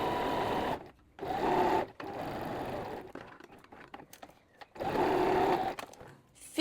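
A sewing machine stitches a collar in two fast, steady runs, pausing between them, with lighter clicks and handling sounds in the gaps.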